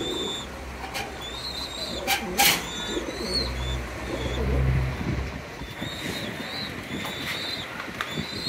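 A pair of imported-bloodline Red Lahori fancy pigeons coo nearby, low rolling calls repeating over a windy outdoor background with a few sharp knocks.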